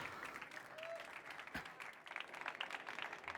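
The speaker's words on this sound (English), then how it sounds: "please give us a really big applause for our next speaker" An innovation-stage conference audience gives steady applause for the next speaker, dense clapping sustained throughout with a brief crowd murmur mixed in.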